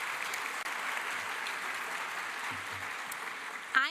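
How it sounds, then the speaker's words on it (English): Audience applause at a teacher of the year ceremony for a high school jazz band, steady clapping from a large crowd that holds evenly, with a short voice cutting in at the very end. "Let's give a round of applause for Yukon High School Jazz Band for providing the wonderful music this morning."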